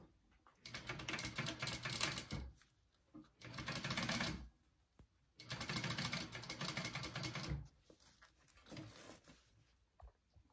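Sewing machine basting fabric pieces for a bag at an eighth-inch seam, running in three steady bursts of rapid mechanical stitching with short pauses between, close and fairly quiet.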